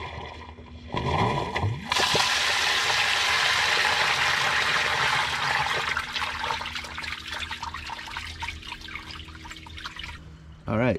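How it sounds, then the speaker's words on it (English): A septic system sand filter purges its laterals, a sudden loud rush of water starting abruptly and hissing steadily for several seconds before tapering to trickles and drips, with someone talking faintly over it. "that was the purge flush that you saw there"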